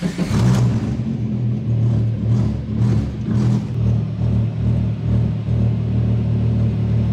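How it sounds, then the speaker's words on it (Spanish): A VW Gol engine runs after being started, producing a loud steady rumble with a low pulsing throb, close by and without talk. "hoy suena un poquito más parejo la segunda vez que le di arranque"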